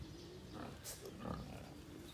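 Pigs raised for lechon in a farm pen, with faint, brief grunts and a short squeal at a distance over low background noise.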